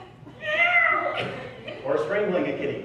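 A performer vocally imitates a cat meowing, as if a kitty is being petted, during a live improv sound-effects game; two drawn-out, wavering meows, close and fairly loud.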